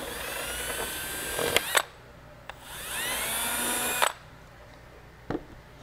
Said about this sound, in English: I'm going to drill the other 2 rivet holes with this in place